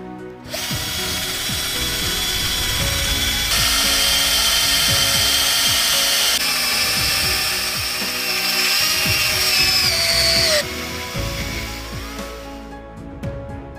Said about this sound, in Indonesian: Anda juga dapat menggunakan bor listrik untuk mempercepat prosesnya.